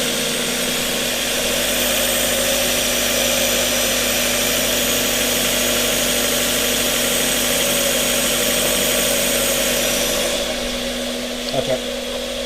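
A Mazda Miata drift car's engine idles steadily while warming up, a continuous low hum with constant mechanical vibration, close and fairly loud throughout, with a brief clatter near the end.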